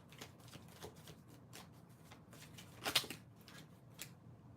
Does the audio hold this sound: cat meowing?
no